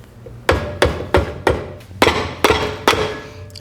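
Repeated sharp hammer blows on Honda Dream motorcycle engine cases being split apart, about seven loud metallic strikes in an irregular rhythm, close by with no talking.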